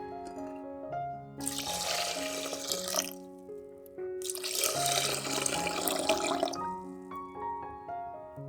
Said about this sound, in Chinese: 将米倒入锅里，用水冲洗干净，然后倒入适量的水